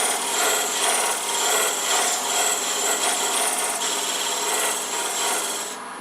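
A homemade beading tool ground from an old, worn spindle gouge cuts into spinning wood on a lathe, rocked back and forth on the tool rest, giving a loud, steady, close rasping scrape that continues without a break.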